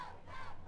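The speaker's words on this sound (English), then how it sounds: "you can hear the roar of the crowd" A high school football crowd roars and cheers in the stands after a home touchdown, a steady, distant wall of voices without a single speaker standing out.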